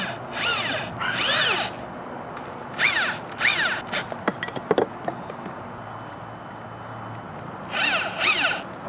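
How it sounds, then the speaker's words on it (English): A power drill assembles a wooden bench frame, running in several short whirring bursts with pauses between them and a few sharp knocks in the middle, close by and with no talking. "Got myself a drill. Gonna put this thing together."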